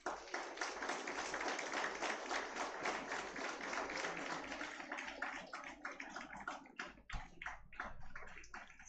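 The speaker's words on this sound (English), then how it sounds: "Just give a clap for them." Graduation audience applauding in a hall, a dense, sustained wash of many hands clapping that thins into scattered individual claps toward the end.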